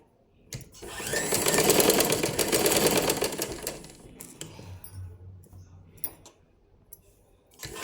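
Sewing machine running fast, stitching a folded cloth edge, a loud buzzing whirr for a few seconds that then slows and stops, followed by faint clicks and handling noises.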